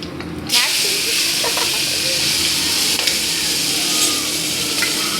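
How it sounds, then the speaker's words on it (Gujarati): Mustard seeds and cumin crackle and sizzle in hot oil for a khichdi tempering, a loud, steady frying hiss filled with scattered pops that starts abruptly and continues throughout. "રાઈ કકડી ગઈ છે હવે એમાં નાખ જીરું પછી હિંગ નાખ"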